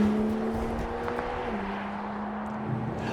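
A 2025 BMW X3 M50 SUV drives along, with a steady engine drone and a low hum that shifts pitch once midway, heard from inside the cabin and fairly quiet.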